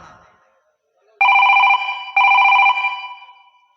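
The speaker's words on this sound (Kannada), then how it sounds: "ಇನ್ಸ್ಪೆಕ್ಟರ್ ಮೊದಲೇ ಸಂದೀಪನಿಗೆ ಫೋನ್ ಮಾಡೋಣ" A telephone rings loudly and close by in two long electronic bursts separated by a short gap, following a brief moment of quiet.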